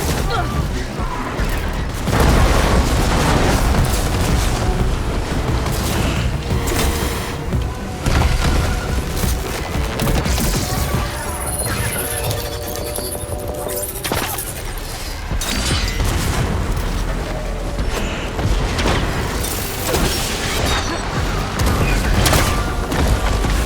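Explosions in Horizon Forbidden West: Burning Shores go off again and again, heavy booms and crashing bursts piling up inside a dense, continuous wash of combat noise that stays loud for the whole stretch.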